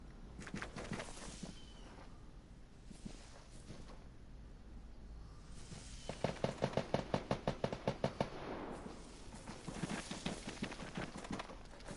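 Gunfire in the online shooter Vigor: a rapid burst of sharp, evenly spaced shots in the middle of the scene, clear and fairly close over ambient game background.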